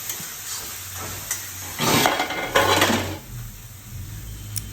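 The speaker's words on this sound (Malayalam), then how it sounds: "നമ്മൾ ഈ ചതച്ച് വെച്ചിരിക്കുന്ന മസാല ഇതിലേക്ക് ഇട്ട് ഇളക്കിയെടുക്കാം" Crushed masala being stirred into bitter gourd in a pan, with a few brief scraping and sizzling bursts in the middle over a quiet low hum and no talking.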